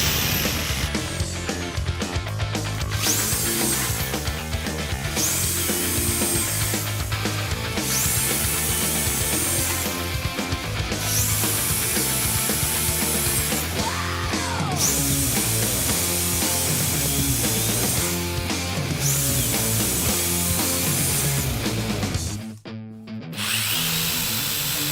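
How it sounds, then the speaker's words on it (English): A power drill bores into the frame of a Moto Guzzi cafe racer motorcycle, running loud and continuous with a few brief pauses and a short drop near the end, with no talk. "Right, let's do some drilling."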